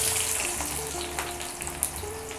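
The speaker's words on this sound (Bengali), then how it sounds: "মানে 3টা বড় সাইজের পেঁয়াজ আমি দিয়েছি, একটু ভেজে নেব" Three large onions fry in hot oil in a wok (kadai), giving a dense, close, continuous sizzle over a brief stretch with a faint steady hum underneath.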